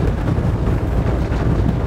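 Delta 80 motor yacht running flat out at full revs of 2,300 RPM near its 36-knot top speed, a loud, steady low engine and hull roar mixed with rushing wind, continuous and close with no talk.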